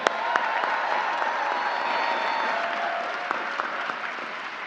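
A Grammy event audience applauds a band, a sustained wash of clapping from a large crowd with a few sharper claps standing out, fading slightly toward the end.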